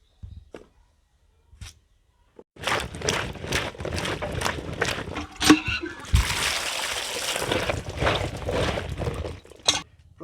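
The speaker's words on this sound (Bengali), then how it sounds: "প্রথমে আমরা আলুগুলোকে কেটে ধুয়ে পরিষ্কার করে নেব" Cut potatoes are swished and rinsed in water in a village kitchen ahead of an aloo curry, giving repeated close splashes and sloshing that start after a quiet opening and carry on steadily to the end.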